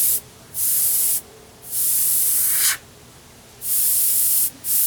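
An airbrush sprays paint onto sheet metal and rivets in four short hissing bursts of a second or so each, separated by brief quiet gaps, close and fairly loud.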